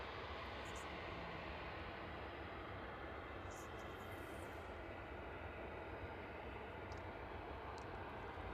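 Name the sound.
cargo aircraft landing at East Midlands Airport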